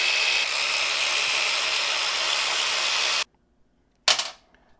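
A wrench loosens bolts on a Ducati Panigale V4 Speciale motorcycle during a 520 chain conversion. A loud, steady, harsh whir runs for about three seconds, then silence, then one short sharp burst that fades quickly.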